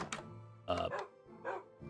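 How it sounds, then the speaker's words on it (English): Several dog barks in Minecraft at a player's base with many tamed dogs, a few short yelping bursts in a loose rhythm, moderately close and fairly soft. "We have a lot of dogs, which I don't have any named"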